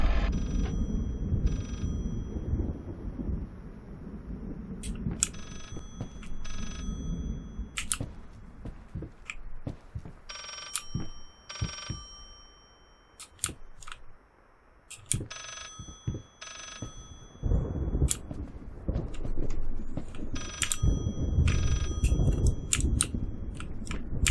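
Telephone ringing in the horror video game Layers of Fear, with repeated short high bursts recurring through the clip over low rumbling ambience and intermittent noises.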